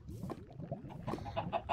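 Chickens cluck in a Minecraft game running the Superheroes Unlimited mod, a busy run of close, repeated clucks and squawks with no talk over them.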